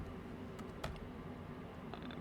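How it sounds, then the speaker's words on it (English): Light typing on a computer keyboard while entering text into a document, a short run of soft, uneven key clicks, fairly faint with no talking. "Actually, I'm just going to type in partner."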